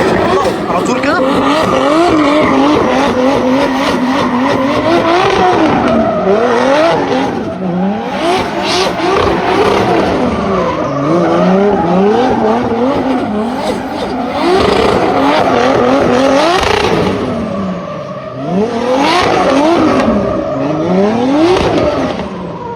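A turbocharged drift car roars continuously, its engine rising and falling in repeated rev sweeps under load, with tire squeal and a voice faintly audible beneath the loud, close engine noise.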